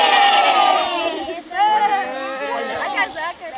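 A group of children imitate a sheep's bleat in a tunnel under a railway, with loud, close, quavering baa sounds that overlap and break into a second wobbly round amid lively chatter.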